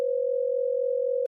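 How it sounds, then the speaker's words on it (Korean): A steady telephone line tone from a 911 emergency call, one continuous loud electronic hum lasting over a second before cutting off abruptly, alone with no voices. "충돌 직후 자카리는 911에 직접 신고 전화를 걸었습니다"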